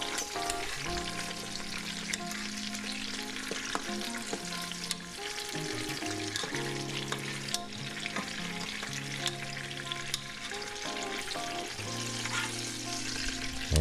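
Oxtails sear in a hot pan with a steady, loud sizzle that runs the whole time, broken by occasional clicks and scrapes as the pieces are turned.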